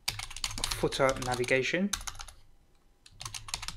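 Quick clicking keystrokes on a computer keyboard patter in bursts at the start and end, with someone speaking briefly in between while typing out a website wireframe.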